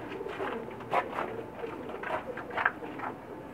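Pakistani pigeons coo in a rooftop loft in Jeddah, giving soft, repeated throaty calls close by with no talk over them.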